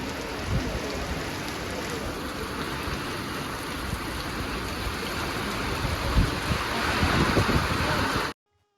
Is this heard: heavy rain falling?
yes